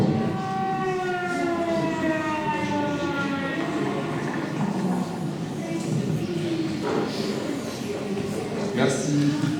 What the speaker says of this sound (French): Quand il y a des bombardements, il y a des sirènes.